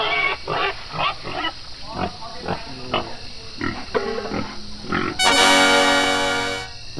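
Cartoonish pig oinks and grunts come in several short bursts over a steady background hum, followed by a sustained tonal squeal near the end.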